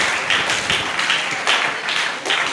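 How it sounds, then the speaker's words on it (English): Audience applause welcoming a speaker at a WASSCE exam-success talk: a steady wash of many hands clapping at moderate loudness, swelling slightly in waves across the whole moment, with no voices over it. "Ladies and gentlemen, with a warm round of applause, let's welcome Mr. Alidu Muhammad Yaqub."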